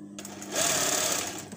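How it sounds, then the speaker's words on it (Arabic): A sewing machine runs a straight seam across fabric while attaching a braid trim, a steady close mechanical whir that starts after a brief pause and continues for over a second. "نهبط خياطة مستقيمة"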